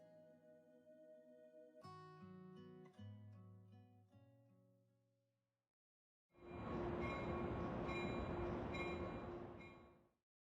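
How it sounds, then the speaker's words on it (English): A train pulls away after a few musical tones end, its steady rolling rumble and rattling wagons rising loud and sustained for several seconds before cutting off. "That was the train leaving."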